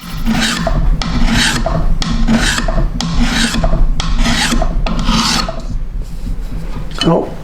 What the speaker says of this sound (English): I just want to get this clamp back on so that I can start doing some preliminary filing